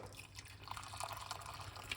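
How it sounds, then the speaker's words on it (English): Hot water is poured onto green tea, a faint, brief trickle and dripping splash heard close up and quietly for a couple of seconds. "Thirdly, we're gonna pour some hot water"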